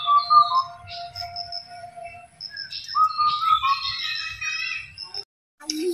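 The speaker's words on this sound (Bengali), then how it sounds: "কত সুন্দর পাখি ডাকতেছে" Birds sing outdoors during the rainy season, with clear whistled notes and chirps overlapping from several sources against a faint background murmur.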